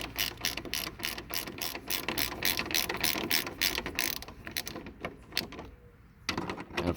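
A 3/8 ratchet turns heavily rusted air filter housing bolts on a 2003 Chevy Express G3500 van, rapid repeated clicking strokes close by, pausing briefly before a final burst of clicks.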